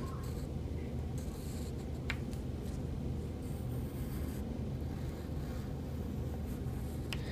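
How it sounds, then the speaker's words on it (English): Pencil tracing around a scrap of paper for a gingerbread cookie collage, a steady soft scratchy scraping that runs continuously with a few faint taps and no talk. "I'm gonna trace around just the bottom part."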